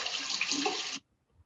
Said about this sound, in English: That sounds like water running